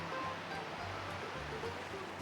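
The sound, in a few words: wave washing up on a sandy beach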